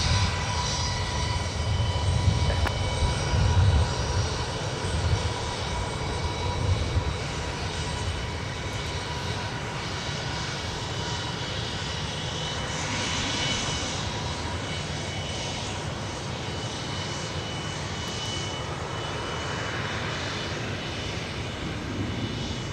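At Minneapolis–St. Paul Airport a jet airliner on runway 17 spools up with a low rumble that settles into a sustained, moderately distant roar as it takes off, steady for over twenty seconds.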